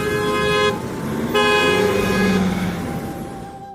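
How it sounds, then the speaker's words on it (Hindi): Cartoon sound effect of a car pulling up, a bright, loud horn-like toot that breaks off briefly and then sounds again before tapering away, with no voices. "तभी वहाँ एक कार आती है।"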